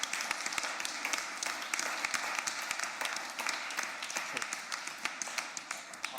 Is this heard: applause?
yes